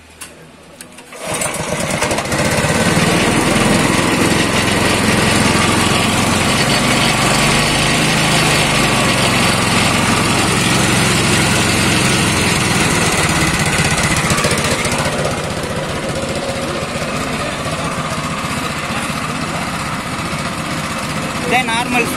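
A small petrol engine on a farm machine near Melur, Madurai, catches abruptly after a second of quiet and runs loudly and steadily for about twenty seconds, with a slight shift in its note partway through.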